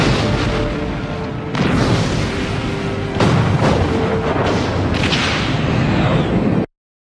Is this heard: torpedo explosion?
yes